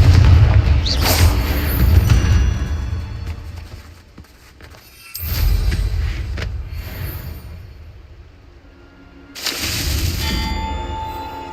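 Spell explosions boom in the Hogwarts Legacy video game after a Confringo cast, with three loud bursts spaced several seconds apart, each a heavy low blast trailing off with debris and rumble; no talk.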